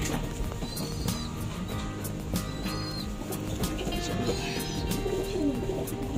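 Pigeons coo softly and repeatedly in a low, throaty rhythm, with faint background rustling and a few higher bird chirps.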